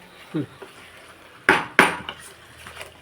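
In a kitchen while chicken fries for a biryani, a metal lid clanks onto a pot, giving two sharp, close metallic hits after a softer clink, with a voice speaking lightly in the background.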